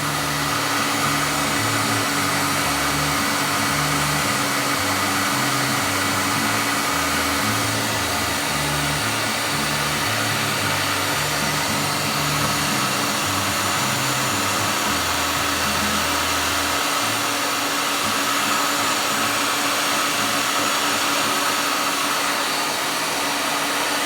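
A hot-air tool blows steadily under a circuit board to melt the solder, a constant loud rushing hiss that carries on unbroken, with a low fluttering hum beneath it for most of the time.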